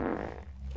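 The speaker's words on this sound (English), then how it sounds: "How can I be trying to ascend and this man keeps farting?" A man breaks wind in one brief, low, rumbling fart, close and fairly quiet, with no talk over it.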